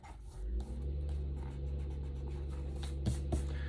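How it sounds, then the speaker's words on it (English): Pencil lines being rubbed out with an eraser on scrapbook paper, a series of quick scratchy strokes at close range with no talk. "Go back and erase my pencil lines."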